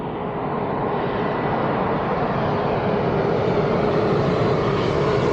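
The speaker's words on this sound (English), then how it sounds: "Got another Dreamliner." Boeing 787 Dreamliner airliner landing at London Heathrow, a continuous broad jet roar that swells slightly and shifts in pitch as it passes, loud and steady throughout.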